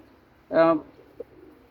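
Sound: silver pigeon cooing

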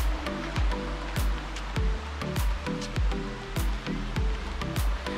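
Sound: waterfall and rushing water

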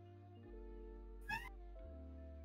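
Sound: cat meowing

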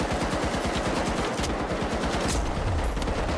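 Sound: gunshots in a video game

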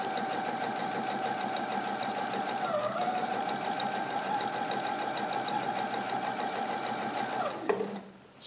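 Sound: Brother PE 770 sewing machine sewing shirt fabric

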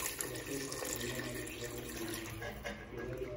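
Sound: pouring a cup of water into lamb curry pot

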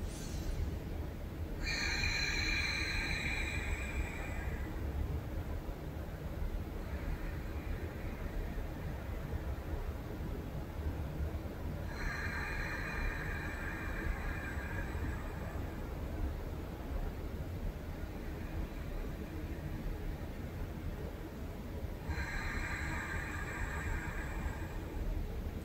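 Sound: ujjayi ocean breath, breathing with a constricted throat

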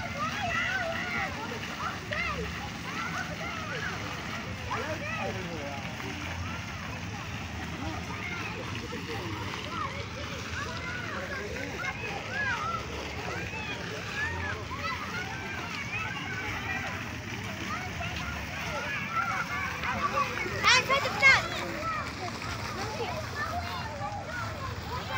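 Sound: water splashing in a swimming pool

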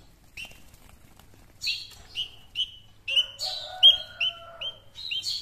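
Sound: spiderhunter bird chirping

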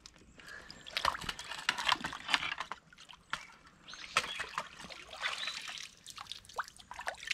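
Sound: water draining through net in river

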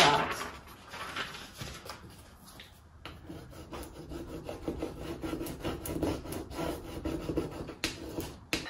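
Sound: scraping floral decor transfer onto a mirror

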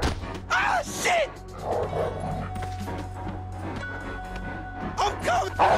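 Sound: dog Chop barking and attacking in video game GTA 5

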